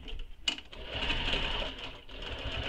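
A sewing machine running a long basting stitch on a mini backpack, close and quiet, with a short mechanical clack near the start, a steady whirring run, then a brief pause and a restart.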